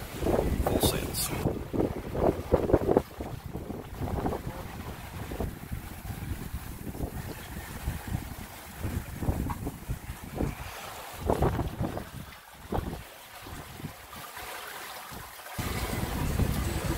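A sailboat running under full sails in good wind on the open ocean off Key West, with gusty wind buffeting the microphone and water rushing and slapping against the hull.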